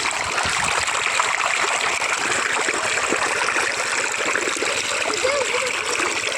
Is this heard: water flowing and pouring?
yes